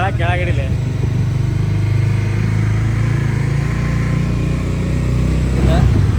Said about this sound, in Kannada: ನಾವು ಡಾಮಿನಾರ್ದಾಗ ಹೊಂಟೇವಿ.